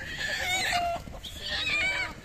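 Chickens in a cage at a Bihu feast market, clucking and squawking in short bursts close by, moderately loud over a busy outdoor background.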